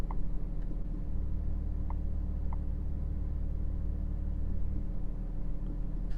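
The exhaust of a 2022 BMW M4 Competition G82 with the exhaust button on, heard from inside the cockpit as a steady, deep idling drone and rumble, constant and moderately loud with no talk.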